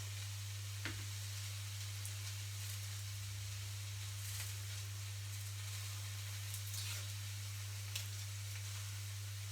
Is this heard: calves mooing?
no